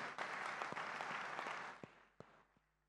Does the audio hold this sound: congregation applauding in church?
yes